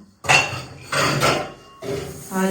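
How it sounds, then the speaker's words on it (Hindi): A husband washing dishes at home: metal pots and utensils clatter and clink in three separate loud, close bursts with short pauses between them. "और ये मेरे हस्बैंड बर्तन धो रहे हैं।"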